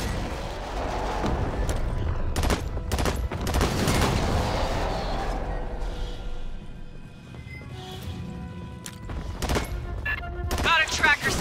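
Gunfire in the Aliens: Fireteam Elite video game, with bursts of rapid automatic fire and sharp crashing impacts across the clip, loud and close, mixed with game effects and faint voices.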